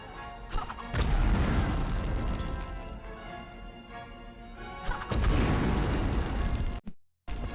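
Grenade explosions in the 2000 video game Medal of Honor Underground: several heavy booming blasts with crashing debris, a dense burst near the start and another around the five-second mark, then an abrupt cut to silence.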